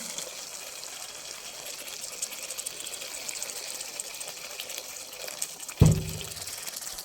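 Water pours into a pan of rohu fish curry gravy with a steady rushing hiss, then a sudden louder splash near the end.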